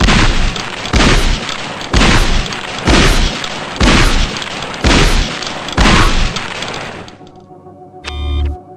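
Shotgun blasts in the video game Gunman Chronicles, fired at a target: seven loud, evenly spaced booms about a second apart, followed by a quieter mechanical clatter and a short low thump near the end.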